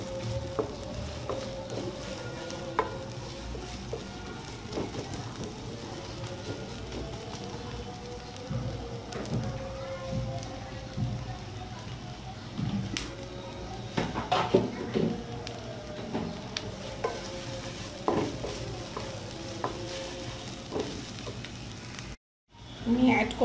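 Chopped onions frying lightly in oil in a pan for a Bangladeshi mustard hilsa curry, with onion paste going in: a steady low crackling sizzle with scattered pops and clatter, continuous throughout, briefly cutting out near the end.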